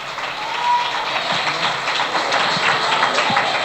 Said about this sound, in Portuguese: Palmas que louvam o nome do Senhor Jesus. Mais alegres ainda.